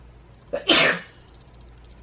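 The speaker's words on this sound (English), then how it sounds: "Hold on, I have to sneeze." A single loud, close sneeze with a short sharp intake before it, followed by quiet, then another burst starting at the very end.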